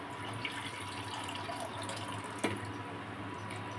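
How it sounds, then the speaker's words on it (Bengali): Hot water is poured onto mutton cooking with onion paste in a home kitchen, a steady faint trickle of running liquid with one brief clatter midway. "গরম জল দিয়ে দিচ্ছি মাংসেতে"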